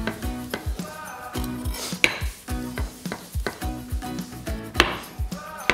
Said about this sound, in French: Les champignons, on va les couper en petits morceaux.